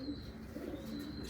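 Uzbek pigeons, a chil-colored breed, cooing in a low, soft, steady murmur that runs unbroken, with no voices.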